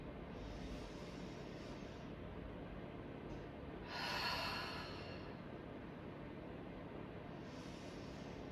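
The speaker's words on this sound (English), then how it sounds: "Taking 5 big breaths here." Deep, slow breaths during a hip-stretching exercise, taken with the knees drawn toward the armpits and the lower back on the floor: a faint, steady breathy hush with one louder exhale partway through.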